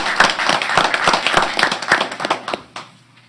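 Audience applauding junior high students of the month at a school board meeting, a crowd of clapping hands in a room, brisk and steady for a few seconds before tapering off to quiet.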